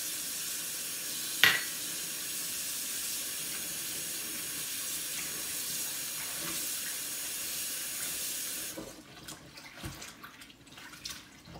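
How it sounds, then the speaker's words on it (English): Kale leaves rinsed under a running kitchen tap, a steady close hiss of flowing water that cuts off near the end, leaving soft splashes and handling noises. "let the water run over it and drench it in there"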